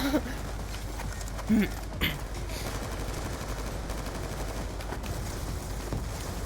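Enemy gunfire crackles in bursts within Call of Duty: Black Ops 2 gameplay, set against a busy battlefield background while someone talks over the action.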